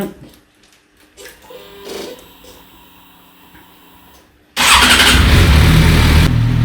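A Suzuki Bandit 650 S motorcycle engine runs after its thermostat is refitted, during a cooling-system test. Quiet clicks and shuffling give way to the engine abruptly catching, then a loud, steady close-up running drone.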